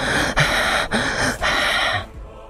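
Loud, close heavy breathing in a horror story: three long, rasping, breathy exhalations broken by brief sharp inhales, fading out at the end.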